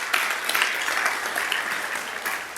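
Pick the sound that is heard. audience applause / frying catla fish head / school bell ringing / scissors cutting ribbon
audience applause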